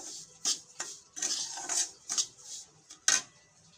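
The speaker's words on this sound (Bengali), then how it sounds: "আবারও সুজিটা নাড়াচাড়া করব, করে ঘিটার সাথে মিশিয়ে নেব।" Fried semolina being stirred into melted ghee in a pan for suji halwa: irregular, close scraping and clinking strokes of a spoon against the metal, separated by brief quiet gaps.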